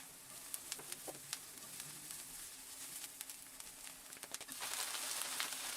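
Garlic hitting hot oil in a pan, a faint steady sizzle with scattered crackles and pops, swelling into a louder, denser fry near the end.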